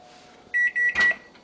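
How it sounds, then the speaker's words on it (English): A Cuisinart 3-in-1 microwave air fryer oven halts mid-cook as its door is opened, giving a few short electronic beeps with a clunk, close and fairly loud, with no one talking. "when I stop and I open up, you know, just like a microwave should, it stops cooking"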